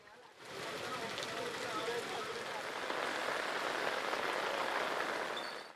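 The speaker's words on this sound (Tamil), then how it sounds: "இரவு முழுவதும் பெய்த கனமழை காரணமாக சாலையில் மழைநீர் பெருகெடுத்து ஓடியது" Heavy overnight rain on a road where rainwater runs in streams, a dense, steady hiss of downpour and splashing that swells quickly and stays loud and even throughout.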